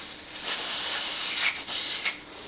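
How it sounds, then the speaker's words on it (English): Wirt multi-spray lubricant is sprayed onto a 2003 Harley-Davidson V-Rod motorcycle's swing arm pivot shaft, giving a close, steady aerosol hiss with a couple of short breaks and slight pressure changes. "I'm using Wirt multi-spray as a lubricant."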